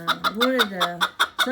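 Old English rooster clucking up close, a series of short harmonic clucks in an uneven rhythm with one longer drawn-out call near the middle, loud and alone.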